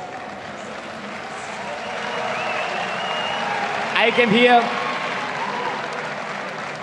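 Applause and cheering from a large, enthusiastic crowd at a Gamescom 2013 EU Regionals esports event, swelling for a few seconds under an interviewee's speech.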